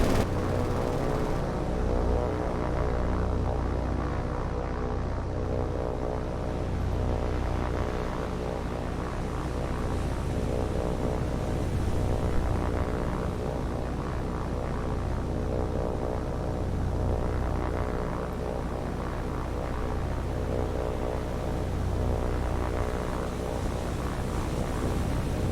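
Propeller-driven aircraft flying in War on the Sea, a float plane droning steadily and loudly throughout with a constant low engine hum, no speech present.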